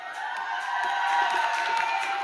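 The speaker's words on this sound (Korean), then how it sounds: "이쯤 되면 박수 한번." A studio concert crowd at a live trot music show cheers and applauds, with a loud, sustained roar of voices, high whoops and clapping throughout.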